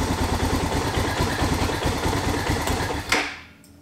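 A Suzuki DR650 motorcycle engine, a garage find, runs loud and steady nearby with a dense rhythmic chug, then cuts off abruptly near the end, leaving quiet.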